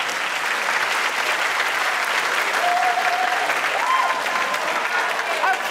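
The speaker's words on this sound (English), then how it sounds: "Huge round of applause." An awards-ceremony audience applauds steadily, a dense, even wash of many hands clapping at moderate distance that holds for several seconds, with faint voices mixed in.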